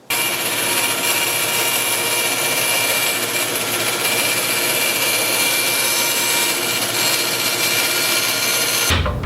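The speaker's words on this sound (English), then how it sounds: "For me, by far the easiest way to make this cut is to do it on the bandsaw." A bandsaw rips through a piece of scrap wood to make custom dominos for drawers, a loud, steady whining cut that holds unbroken for about nine seconds and stops abruptly at the end, with no talking.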